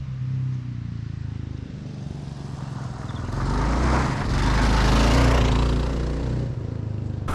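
A 2022 Kawasaki KLR650 ABS motorcycle riding off road on dirt: a steady engine drone that swells louder midway, then eases back, with wind and tyre rumble around it.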